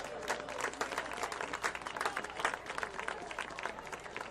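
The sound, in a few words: crowd applause at a football game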